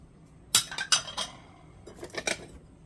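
Porcelain saucers found while dumpster diving in Korea clink against one another as they are handled and counted, giving sharp, close ceramic clacks in two short clusters with quiet gaps between them.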